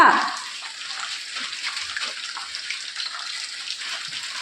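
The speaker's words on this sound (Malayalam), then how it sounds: "മഴ കൊണ്ട് പോണ്ടട്ടാ" Steady rainfall makes a soft, even hiss that runs unbroken throughout, faint and moderately close, with a brief louder splash at the very start.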